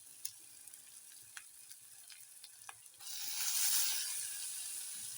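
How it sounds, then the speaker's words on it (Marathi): Tomato and vegetable curry cooks in a pan. Soft clicks and light stirring give way to a louder, steady sizzle partway through, and it stays fairly quiet with no voices. "टोमॅटो शिजला नाही शिजला भाजी शिजत आहे"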